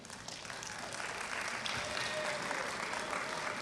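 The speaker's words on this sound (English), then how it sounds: "Round of applause." A room full of attendees at a funeral-profession awards gathering breaks into steady, dense applause that holds at an even level throughout, with no voices rising above the clapping.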